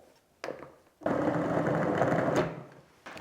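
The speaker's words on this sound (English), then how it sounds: "I'm going to pulse this until it resembles fine breadcrumbs" Food processor pulsing chilled butter cubes into flour: a short buzz, then a longer loud whirring burst of about a second and a half, with another pulse starting at the end.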